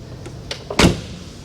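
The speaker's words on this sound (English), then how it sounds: "those doors open and close solid" Doors of a 1962 Mercedes 190 open and shut, giving a few close, crisp clicks of the latch followed by one solid, heavy thunk as a door closes, with no talking.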